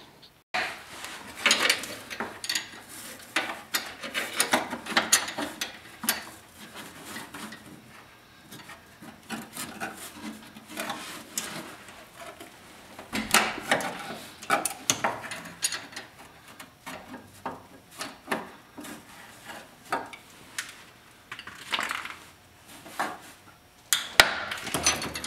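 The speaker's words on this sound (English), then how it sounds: "So now we're gonna set the valves on number four cylinder." Intermittent metallic clicks, scrapes and ratcheting from hand tools adjusting the valves on cylinder four of a 1977 VW van engine, close and fairly quiet, in irregular bursts with pauses.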